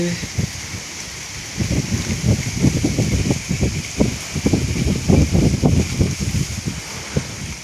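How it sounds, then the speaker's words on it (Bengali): Light drizzle in Gangapur patters in scattered, uneven drops over a soft, steady background hiss. "গুড়ি গুড়ি বৃষ্টি পড়ছে।"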